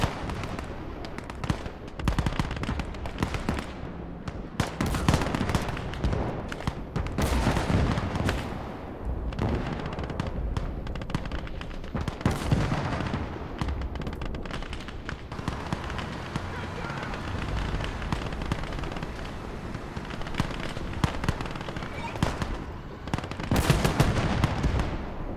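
Dense, continuous gunfire and artillery from a World War II battle in the Gates of Hell strategy game, rolling bursts and heavy booms layered throughout, with someone talking over the combat.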